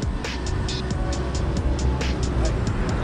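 A wide-body Mazda RX-7 FD rumbles at Daikoku parking area at night, a steady loud low engine drone with traffic and other car noise around it and short bursts of higher-pitched revving.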